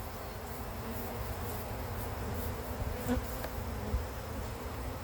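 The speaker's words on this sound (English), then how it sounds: "we're going to go ahead and get the bees off of that one" A dense, continuous buzzing of many honey bees, steady and moderately loud throughout, like standing close to a busy hive while honey is being pulled.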